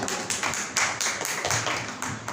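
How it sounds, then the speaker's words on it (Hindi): A crowd at a Jain religious discourse gathering in Jaipur breaks into loud applause, a sustained burst of many hands clapping that surges in quick pulses, with no voices over it. "बहुत सुंदर, जोरदार तालियां"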